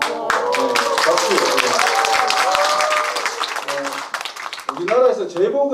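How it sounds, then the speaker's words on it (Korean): An audience at a film screening Q&A session breaks into loud, steady clapping that tapers off, and a voice speaking over a microphone follows at the end. "박수."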